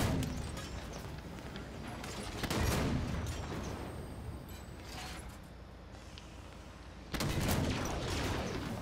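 Halo 5 Warzone Firefight combat with steady gunfire and heavy blasts, loud bursts near the start, around 2.5 seconds and again near 7 seconds, with a continuous rattle of shots between them.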